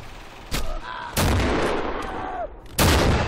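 Heavy blasts in the WWII shooter game Darkest Hour Red Orchestra, set in the Stoumont map. Three loud, close explosions land at separate moments over a murky background of battle noise, with a faint whistling tone in between.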